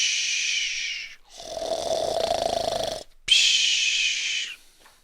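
A reader's voice mimics a witch snoring in a fairy tale, giving two long hissy, breathy snores separated by a lower, throaty rumbling breath, close and fairly loud.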